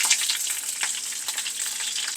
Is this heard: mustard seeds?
yes